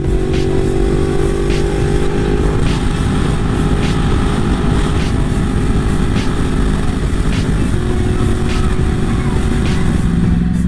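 A Yamaha R1 sport motorcycle climbs a mountain road in fourth gear, its engine droning loud and steady throughout with a slight shift in pitch partway through.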